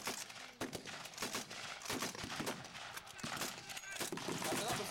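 Rifle and machine gun fire at a World War II battle reenactment, including number 4 Lee Enfield bolt-action rifles, distant rapid cracks and bursts rolling over a noisy outdoor field while someone talks throughout.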